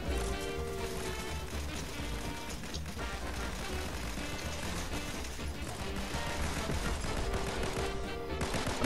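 Gunfire in the video game Fortnite, a dense continuous barrage of shots and game noise over a busy mix, steady and loud throughout with no clear speech.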